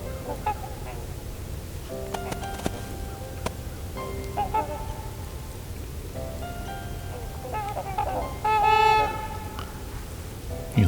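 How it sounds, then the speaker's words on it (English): Trumpeter swans give scattered, nasal, horn-like honks at a moderate distance outdoors, with a louder cluster of calls near the end. "some trumpeter swans"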